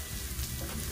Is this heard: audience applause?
no